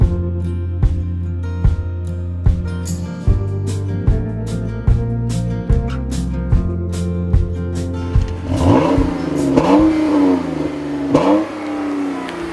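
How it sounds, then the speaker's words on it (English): A 2015 Chrysler 200 engine revs up throatily through repeated gear changes, each pull rising in pitch and then dropping, heard close from inside the car. "I wasn't expecting this engine to sound so throaty, but it actually does sound pretty good"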